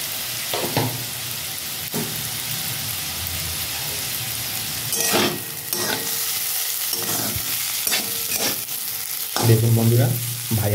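Bottle gourd peel fries in a pan with a continuous sizzle while a utensil scrapes and stirs it in repeated bursts, close up and without speech.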